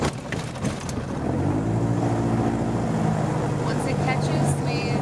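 A Mooney M20J's warm aircraft engine cranks with rough, irregular turning, then catches into a steady throbbing run with rising harmonic drone, close and loud, with people speaking at the start.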